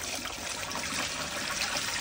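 Water pours steadily into a pressure canner around glass jars of deer meat, a continuous hissing, splashing rush that stays close and even throughout, with no voices.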